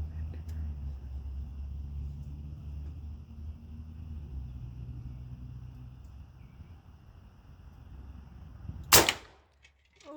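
A single loud, sharp gunshot aimed at a packet of turkey giblets for a Texan Thanksgiving cracks out near the end, after a steady low rumble, then quickly fades to near silence.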